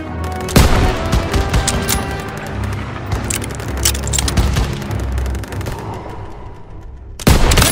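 Rapid volleys of gunfire crackle through a World War II video game battle, with dense machine-gun bursts and sharp cracks over low booms, loud and continuous before a brief lull and another hard shot.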